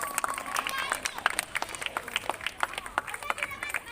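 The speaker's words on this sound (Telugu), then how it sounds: "అందరూ గట్టిగా చప్పట్లు కొట్టండి" Audience clapping at a women's day honoring ceremony, a dense run of sharp claps in quick irregular succession, moderately loud and close, with crowd murmur underneath.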